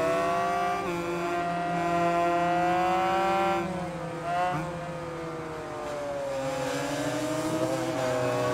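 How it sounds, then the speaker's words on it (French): A motorcycle engine in the racing game Ride 5 drones with a buzzy, lawnmower-like tone. It rises and falls through repeated revs and gear changes, staying loud and continuous throughout. "J'ai un bruit de moteur à tondeuse à gazon."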